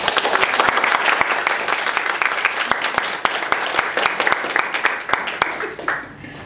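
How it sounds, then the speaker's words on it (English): A roomful of people claps for a speaker at a Toastmasters-style meeting, dense, steady applause with sharp individual claps standing out, tapering off at the end. "give a round of applause"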